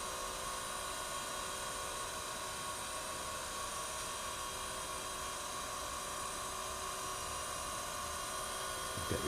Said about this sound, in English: You can see the spindle is nice and quiet.